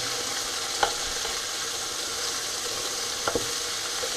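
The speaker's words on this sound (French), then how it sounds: "Je vais retourner un petit peu mes morceaux de viande." Pieces of lamb fry in a pan with a steady sizzling hiss, and a few light clicks and scrapes of a utensil as the meat is turned and browned.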